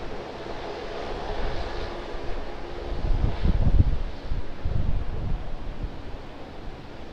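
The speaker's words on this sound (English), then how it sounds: "Time for the Emirates Airbus A380 departure to Christchurch." Emirates Airbus A380 departing Sydney Airport, a distant low jet roar building amid wind noise, swelling to a peak midway then easing into a steady rumble.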